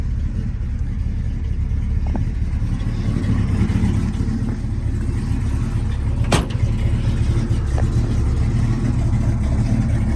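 The 428 Cobra Jet engine of a 1970 Ford Mustang Mach 1 (R Code) runs at a steady, deep, loud idle throughout, with one sharp click partway through.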